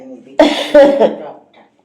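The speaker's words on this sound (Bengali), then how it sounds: "কাশি হচ্ছে" A couple of short, harsh coughs from a sick person with a sore throat, close to the microphone, followed by a brief voiced trailing sound.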